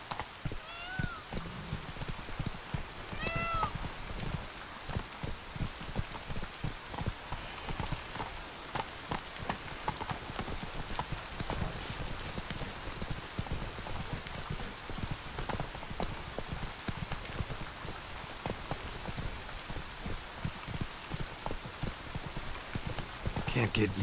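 Roach the horse galloping in The Witcher 3, a rapid steady drumming of hooves carrying on throughout over a soft rainy backdrop, with a brief voice near the start.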